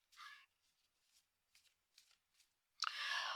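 Tarot cards are shuffled close by in quiet, fitful bursts of riffling and sliding, with faint handling between them, ending in a louder, longer shuffle.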